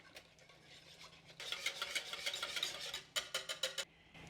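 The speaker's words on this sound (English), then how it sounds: "And then we are going to give this a quick whisk." A whisk beats salad dressing made with coconut oil in a bowl, giving two short bursts of quick, rhythmic clinking strokes that are fairly faint against a quiet room.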